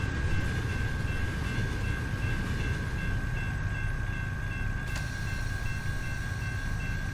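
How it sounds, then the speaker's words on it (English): A freight train rolls past a road crossing in the American Truck Simulator game, a steady loud rumble of wagons with a constant tonal hum throughout, and a brief sharp clank near the end. "here's the end of the train, so that's all good"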